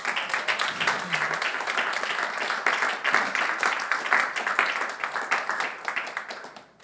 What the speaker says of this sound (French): Est-ce qu'on peut acclamer le roi des rois?